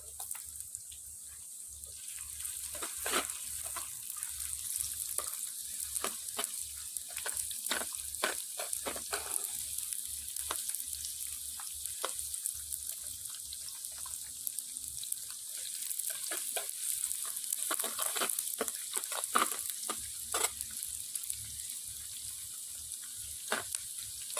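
Red shallots fry in hot oil in a pan for a fish curry, giving a steady bright sizzle with scattered crackles and pops, close and continuous for over twenty seconds.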